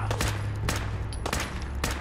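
Gunshots from a weapon in Fallout 4, four sharp bursts spaced roughly half a second apart over a steady low hum, loud and close with no voices.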